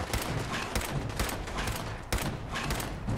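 Rifle fire in Fallout 4 rings out in a rapid volley of sharp, loud shots, several bursts closely spaced across the moment with no talking over them.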